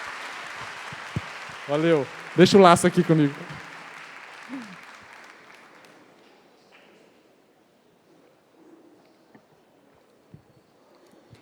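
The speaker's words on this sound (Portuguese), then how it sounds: "Uma salva de palmas para os assistentes aqui." Audience applause at a Canção Nova mission gathering, honoring the assistants: a broad wash of clapping that starts with the clip, runs under a few spoken words, and gradually fades to quiet by about six seconds.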